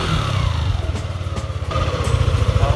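A motorcycle engine fitted with an Uma Racing iridium spark plug runs steadily at a low, even idle, its throbbing pulse close and continuous throughout with no voices.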